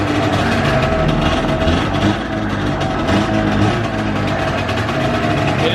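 A Ski-Doo 470 snowmobile engine, revived after sitting in a storage unit, runs steadily with its rollers under the track, giving a loud continuous two-stroke drone that holds an even pitch throughout.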